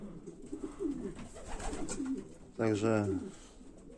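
Pigeons coo in their loft, a clear burst of rolling cooing near the mic after someone talks quietly in Polish over soft background bird sounds.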